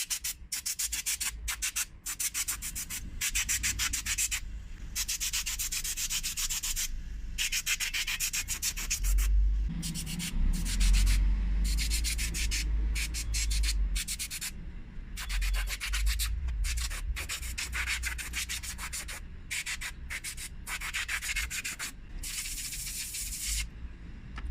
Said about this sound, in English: we're going to blow all of the dust out of this thing